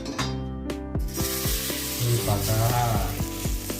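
Egg-soaked bread sizzles loudly and steadily on a hot griddle, with a run of rhythmic scraping strokes layered over the frying.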